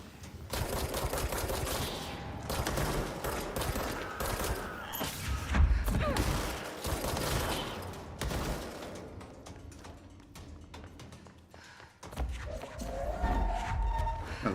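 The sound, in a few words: sniper gunfire in the video game Control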